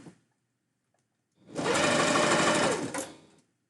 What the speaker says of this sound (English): I think it's pretty boring when I'm doing the sewing.